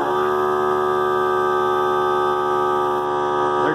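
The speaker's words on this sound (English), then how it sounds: "There goes the air compressor." A 3-gallon air compressor runs steadily throughout, supplying an airbrush, giving a constant loud mechanical hum with no pauses and no voices.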